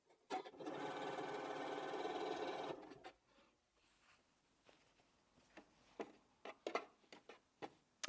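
Home sewing machine stitching scrap fabric binding onto a quilt, a steady fast whirring run for about two seconds that stops abruptly, followed by soft scattered clicks and handling taps.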